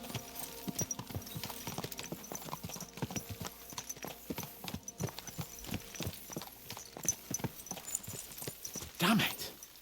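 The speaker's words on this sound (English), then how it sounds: "Let's really spur these horses on, eh?" Horses trot in Kingdom Come: Deliverance II with steady, close hoof clip-clops from several animals, a brief whinny near the end, and a voice talking over them.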